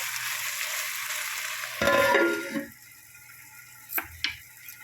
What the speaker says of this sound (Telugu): ఇవన్నీ మగ్గాలి జర మంచిగా మగ్గాలి నూనెలో